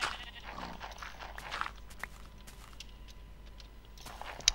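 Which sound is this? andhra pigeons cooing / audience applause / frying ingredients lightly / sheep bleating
sheep bleating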